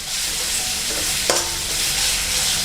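Curry paste and pork stir-fry in a hot pan for Thai jungle curry, a continuous bright sizzle with scraping stirs and one sharp clink of the utensil midway, close and alone.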